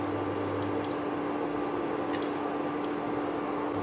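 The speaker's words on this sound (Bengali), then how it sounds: "তার মধ্যে বেশ খানিকটা আমি সাদা তেল দিচ্ছি।" White cooking oil is poured into a wok, producing a steady, fairly loud hiss and splash over a low background hum, with no speech.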